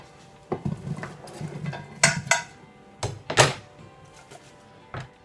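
In a home kitchen during Sunday roast beef dinner prep, food is set into a glass Pyrex dish, giving several sharp clinks and thunks with brief glassy rattles, close and fairly loud, spaced irregularly.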